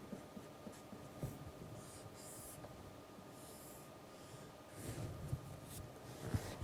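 Chalk tapping and scratching on a board while a physics formula is written, faint strokes and sharp taps against a quiet room hum.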